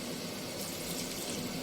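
A small splash of water poured into okra cooking in a pan of well-fried spice masala, a steady broadband hiss and trickle that holds for under two seconds at moderate level with no voices.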